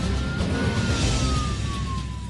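A fire engine siren wails at a Boeing 747 brake test on a runway, a thin, slowly falling tone riding faintly under heavy, constant roaring noise.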